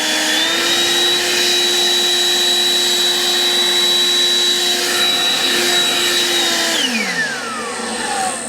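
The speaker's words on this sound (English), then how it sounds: "It's a good blower." Cordless battery leaf blower held in turbo mode, giving a loud steady high-pitched whine and rushing airflow that runs throughout, then winds down near the end.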